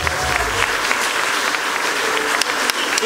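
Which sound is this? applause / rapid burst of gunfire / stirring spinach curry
applause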